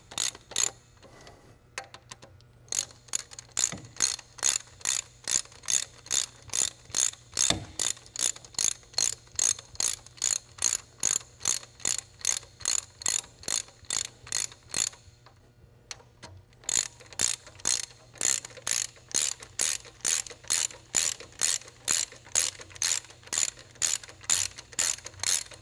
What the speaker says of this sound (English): I had to bust out the ratchet because my hands were slipping so much.